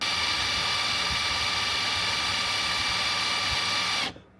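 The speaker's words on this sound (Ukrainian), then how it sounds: "Перевіримо оберти." A SKIL 3285CA cordless impact wrench runs steadily with a loud, continuous whine and hiss at close range, then cuts off abruptly near the end.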